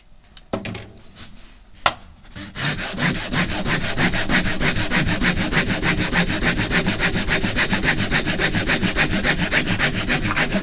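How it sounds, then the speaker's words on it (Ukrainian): A Japanese hand saw cuts a wooden workpiece guided by a magnetic miter box. A few light taps come first, then fast, even push-pull saw strokes rasp steadily up close. "це струсло дозволяє різати під прямим кутом"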